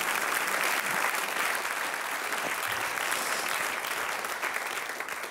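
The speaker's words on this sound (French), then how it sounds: "Vous pouvez applaudir, ça fera générique si vous voulez." Theatre audience applauding at a stand-up comedy show, a dense sustained clapping from a large crowd that fades slightly at the end.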